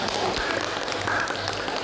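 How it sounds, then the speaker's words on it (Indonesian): Audience at a university competition talk in Surabaya claps in a brief, moderately loud burst of applause, with a faint voice underneath. "Oke, beri tepuk tangan kan"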